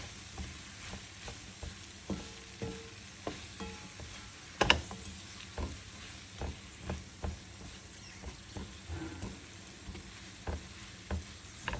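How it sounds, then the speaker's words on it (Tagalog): Sautéed cabbage with dill is stirred in a frying pan, the spoon giving regular scraping clacks about once a second over a soft, low sizzle, close by. "haluin lang po ito"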